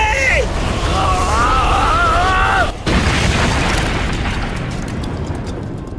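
A loud explosion erupts during an anime fight scene in Naruto Shippuden, a sustained booming roar that swells over dramatic music and voices, cuts out briefly, then rumbles on as broadband debris noise.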